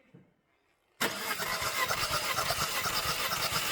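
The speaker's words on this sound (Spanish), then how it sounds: "Dale arranque." A Citroen C4 with a cylinder misfire fault starts abruptly after a quiet moment and settles into a loud, steady idle with a rough, pulsing rumble, heard close with no talking.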